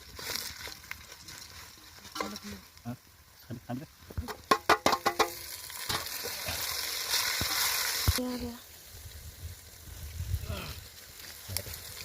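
Spices and masoor dal roast for khichdi on a wood-fired stove outdoors, a continuous sizzle with clattering stirs and a burst of sharp rhythmic scraping midway, quieter crackle afterward.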